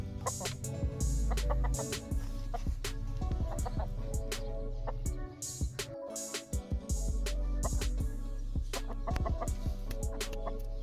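Desi hens on a small poultry farm in Pakistan, including a Lasani hen with her chicks, cluck steadily and repeatedly at close range, with occasional louder calls and sharp knocks throughout.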